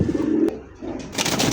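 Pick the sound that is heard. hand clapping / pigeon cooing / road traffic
pigeon cooing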